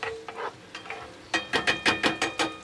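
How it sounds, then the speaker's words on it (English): Food cooks in a pan over turned-up heat, with a run of quick scraping stirs and soft sizzling bursts close by, no talking. "just cook it in the pan here. A bit more heat."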